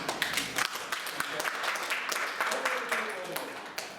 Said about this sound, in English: Would you mind joining me over here to the round of applause that everybody's going to give?